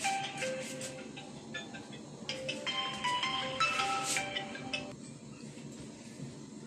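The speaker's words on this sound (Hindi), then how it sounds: "फोन आ गया था भाई।" A phone ringtone plays as a bright repeating melody of electronic tones, fairly close and clear, running for several seconds before cutting off, with no talk over it.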